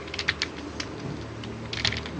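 Fast, close clicking of computer keyboard keys in irregular bursts, a cluster early, a few separate taps in the middle, then another quick flurry near the end, over a soft hum.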